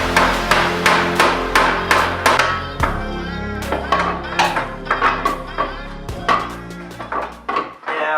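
A hand hammer strikes the steel of an EF car body to make clearance while a traction bar is installed. The blows land in a quick, rhythmic string of about twenty sharp, ringing metallic hits, close and loud, with a short pause midway.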